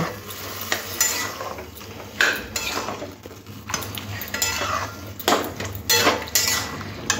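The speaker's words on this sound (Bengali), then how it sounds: "একটু খুন্তি দিয়ে এইভাবে ঘেঁটে ঘেঁটে দেবো।" A spatula stirs boiled banana flower with spices in a pan, with repeated scraping and clinking strokes against the metal over a soft sizzle, close and irregular.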